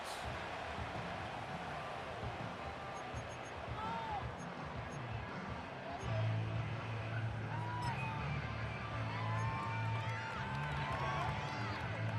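Stadium crowd in the Madden NFL 25 football video game: a broad, steady murmur of a large crowd with rising cheers, heard under the commentators talking.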